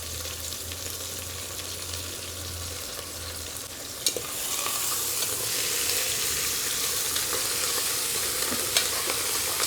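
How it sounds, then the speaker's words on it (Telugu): Sliced onions fry in a pan for mutton pulao, a steady close sizzle that swells and brightens partway through, with scraping stirs and an occasional clink. "బాగా ఏగనిచ్చేద్దామా బాగా గోల్డెన్ బ్రౌన్ రావాలి"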